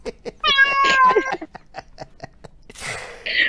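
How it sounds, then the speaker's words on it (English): Several different cats meowing in turn, with a long drawn-out meow near the start, short chirpy calls, and a breathy hiss-like sound near the end, all close and clear against quiet. "We have a litter of cat sounds."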